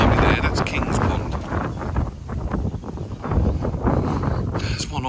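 Strong wind gusts buffet the microphone outdoors beside a fishing pond, a loud rumbling roar that swells and eases over several seconds, with someone talking over it.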